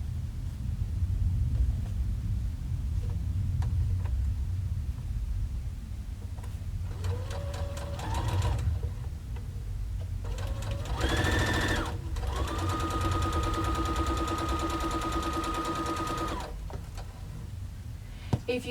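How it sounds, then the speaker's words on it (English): A sewing machine stitches down the seams of four-patch quilt blocks, whirring in several steady bursts with a rhythmic mechanical chatter, close and fairly loud over a low background hum. "And we're just going to stitch all the way down."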